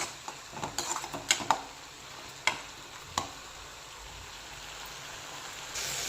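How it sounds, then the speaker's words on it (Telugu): Spice masala for a ridge gourd curry fries in a pan while a spoon scrapes and stirs it, giving a faint steady sizzle broken by several sharp clinks of utensil on metal, with no one speaking. "ఇది కూడా కొంచెం పచ్చి వాసన పోయేంత వరకు ఫ్రై చేసుకున్నాము"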